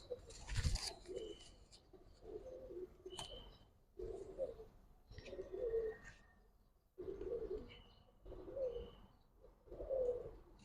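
Giribaz pigeons cooing in a series of soft, rhythmic coos, repeated about every second and a half, close by with faint chirps and no talking.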